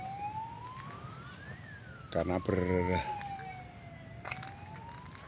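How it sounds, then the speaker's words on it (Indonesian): A wailing ambulance siren sweeps slowly up and down in the distance while a person speaks briefly over it, heard from a mangrove park in Pekalongan, Indonesia. "Terdengar suara sirine mobil ambulan"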